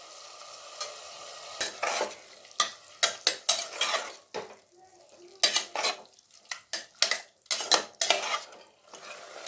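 Yogurt goes into prawn biryani masala and is stirred hard in a metal pot: a rapid, irregular run of loud ladle scrapes and knocks over a light sizzle, close up, with brief pauses between strokes and no talking.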